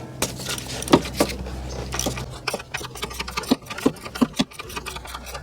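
A ratchet with a 22mm semi-deep socket works a PCV valve loose on a 2005 Toyota Corolla engine, giving close, rapid metallic clicking in uneven bursts with a few sharper clacks.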